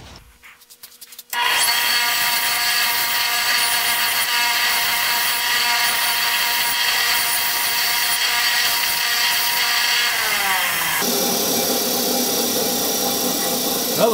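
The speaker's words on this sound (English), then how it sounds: "Well, the wire wheel's working good." Wire wheel brushing clean a wooden-handled screwdriver, a loud continuous abrasive whir and scrape starting after a short pause and running steadily, with a change in pitch near the end.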